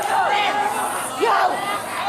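Crowd at a FlipTop rap battle event roaring and cheering, loud shouts and hype rising in waves with a swell near the middle.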